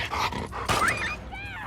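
A dog in The Last of Us Part II video game barks and growls aggressively in short, close bursts, with other game sounds and a voice mixed in.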